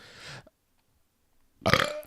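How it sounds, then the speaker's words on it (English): A person burps loudly and close into a podcast microphone, a single short, harsh belch that follows a brief murmur and a moment of silence. "did you burp into the microphone?"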